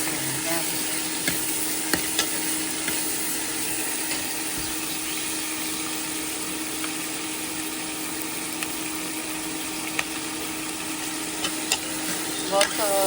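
A vegetable dish sizzles and is stirred in hot oil, giving a steady dense frying hiss with occasional scrapes of a spoon, close and continuous with no talking over it.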